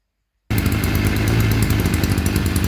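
A small petrol engine with the choke on bursts into life after a brief silence and runs loud, rough and close, with a rapid buzzing putter.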